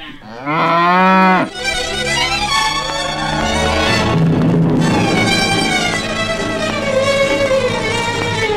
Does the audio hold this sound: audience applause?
no